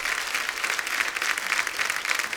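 Studio audience applause at a Hindi TV comedy talk show, a dense, steady wash of clapping from a large crowd filling the room, loud and continuous with no pauses.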